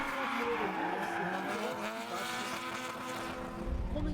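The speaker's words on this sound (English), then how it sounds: "we have Sukas in the gray BMW against Joseph in the white Nissan. Both of them are going really fast around the track" A gray BMW and a white Nissan race hard around a circuit, engines roaring loudly and continuously with shifting pitch and some tire noise, a commentator talking over them.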